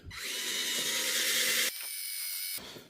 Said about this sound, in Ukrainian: Це якесь фу, нудне заняття свердлити цю рельсу